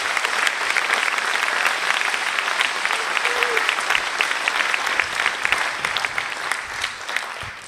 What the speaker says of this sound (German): Und hier kommt der Applaus für ihn.